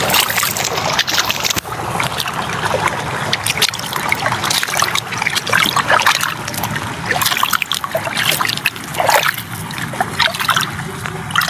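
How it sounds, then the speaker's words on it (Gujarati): Irrigation water flows and trickles steadily into a wheat field, a continuous close watery rush with small splashes throughout. "જોઈએ મિત્રો ત્યાં પાણી કેવું જાય છે."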